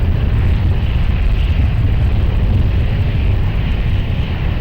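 A Ryanair airliner takes off from runway 20 at Lisbon Airport, its engines producing a loud, steady, broadband roar that holds constant without pause.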